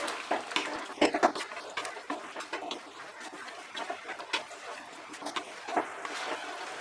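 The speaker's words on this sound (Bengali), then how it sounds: "ভালো করে এবার মিশিয়ে নেব" Spiced mutton stirred in a pan for Bengali mutton kosha, with irregular scraping and clinking of a spoon against metal and a soft sizzle underneath, moderately close and without talk.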